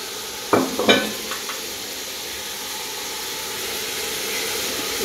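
Tomatoes, large chillies, capsicum and potatoes drop into a hot pan and start frying. A few quick clatters and a burst of sizzle are followed by a steady, quieter hiss.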